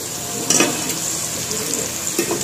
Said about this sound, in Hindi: यह देखो जी बहुत ही जबरदस्त कुरकुरी भिंडी तैयार हुई है हाले फ्राई हो रही है